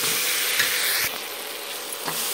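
Jackfruit curry sizzles steadily while frying in a pan over a low to medium flame, a dense continuous hiss that eases slightly partway through, with a couple of faint stirring scrapes.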